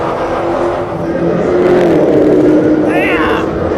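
Dodge cars in the Dodge Celebrity Challenge drag race at Roadkill Nights 2018 roar past, a loud continuous engine drone rising and shifting in pitch while people talk and shout over it.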